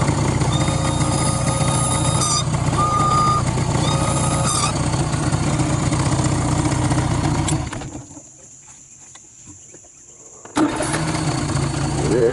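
A boat outboard motor running steadily, loud and close with a droning hum and whine, briefly cutting out to near silence before catching again and roaring back up.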